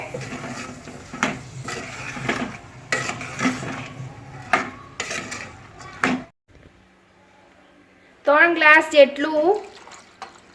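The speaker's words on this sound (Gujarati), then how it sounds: "હવે આ બધું મિક્સ કરી લેવાનું છે।" A spoon clanks and scrapes repeatedly against a pot, mixing khichdi ingredients and spices in uneven strokes, then a brief quiet pause before a short burst of tonal sound.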